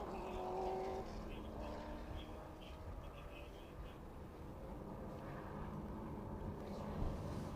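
Race cars at Laguna Seca rolling slowly behind the safety car during a caution, a steady distant engine drone with a faint pass-by swell, mixed under commentary.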